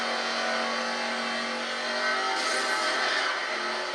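Nissan GT-R engine in Need for Speed Most Wanted, revving loud and continuous with a strained, buzzy tone that jumps higher partway through as the car pulls harder.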